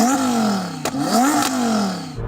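A tuned drag race car engine revs loudly and close by, its pitch climbing and falling in several rising sweeps with sharp blips between them, then cutting off abruptly at the end.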